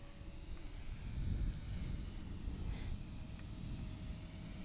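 An Eachine Spitfire or P51D RC model plane with a Corsair propeller flying just after takeoff at about three-quarter throttle, a faint steady motor drone with rumbling wind noise, no voices.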